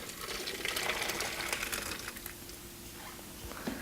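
Thick corn chowder poured from a pot into a food processor in a home kitchen, a soft continuous slurping gush of liquid with faint splashes, quiet and close.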